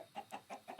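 Chickens clucking in Minecraft, a series of short, close, evenly spaced video-game clucks, four quick bursts in under a second with no talk.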